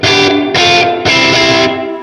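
Electric guitar through a Vox MV50 AC micro tube amp with reverb, sustained chords played loud in three long strums, each ringing into the next with a washy tail and no talking.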